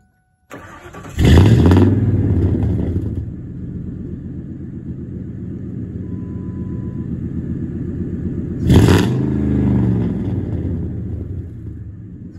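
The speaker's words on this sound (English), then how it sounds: "let's fire it up and rev it up a few times" A 1999 Ford F-150 with a 4.6 V8 and true dual two-chamber Flowmaster exhaust with 3-inch tips cranks and catches, then blips into a loud deep rev and settles to a rumbling idle before a second sharp rev near the end.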